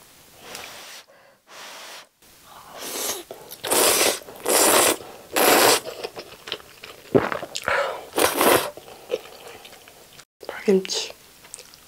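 Someone eats spicy Sichuan Chapagetti noodles with green onion kimchi close to the mic, with loud crunchy bites, wet chewing and slurps in bursts separated by pauses, plus brief soft vocal sounds.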